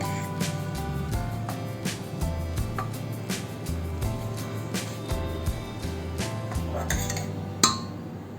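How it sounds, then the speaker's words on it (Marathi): Metal and ceramic clinks as a pressure cooker is opened and cooked rice is scooped onto a plate, light scraping taps spread throughout over a low steady hum, close and fairly loud, with no talking. "आपण आता कुकर उघडून भात टातीमध्ये काढून घेऊ आणि पूर्ण थंड करून घ्यायचा आहे."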